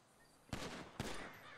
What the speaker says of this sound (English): Bro, you're shooting at people.